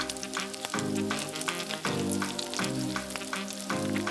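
Smoked salmon hits a hot pan and sizzles loudly and continuously, with repeated stirring strokes and a musical backing running underneath.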